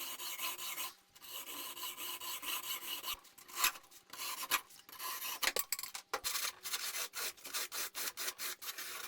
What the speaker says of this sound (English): And then the tube gets cut to the right length.